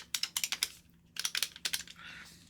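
Competition Pro Extra joystick controller clicking in two quick bursts of sharp, stiff clicks, close and fairly quiet, with a short pause between the bursts and no talk.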